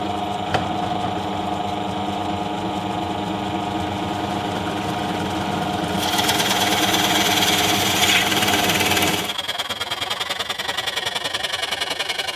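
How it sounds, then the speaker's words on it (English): A Forstner bit in a drill bores out wood during a bass guitar build, a steady close motor whine and cutting drone that grows louder and harsher midway, then stops and leaves a quieter running hum. "I'm going to just use the Forstner bit to take out some of the material"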